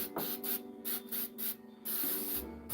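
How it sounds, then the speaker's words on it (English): Bursts of Super 77 spray adhesive hiss onto knee pad padding, several close, steady sprays separated by short pauses. "Now, I like to use the Super 77 for this when I'm doing these knee pads."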